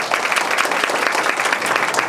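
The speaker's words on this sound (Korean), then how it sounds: "박수 부탁드립니다" An audience at a research presentation breaks into steady applause, a dense, even patter of many hands clapping close and loud for about two seconds.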